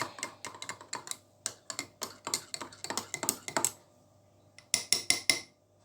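A spoon stirs a coffee drink in a cup, clinking quickly and rhythmically against the sides in repeated close, bright taps, pausing briefly before a final burst of sharper clinks.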